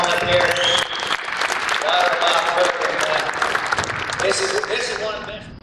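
An audience at the Bull Riding Hall of Fame applauds the bucking bull Oscar's induction, with dense, steady clapping that stays loud throughout while a voice speaks over it.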